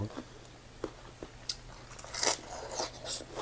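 Someone eats by hand a meal of nam prik kapi chili paste with blanched vegetables, fried mackerel, grilled dried fish and boiled egg. Close, crisp crunchy bites and wet chewing come in an uneven series, growing denser toward the end.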